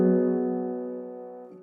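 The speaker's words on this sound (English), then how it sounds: "the original felt piano by Spitfire Audio" A dry felt piano chord from Spitfire Audio's Original Felt Piano, struck once and left to ring softly and sustained, fading evenly, with a faint second touch near the end.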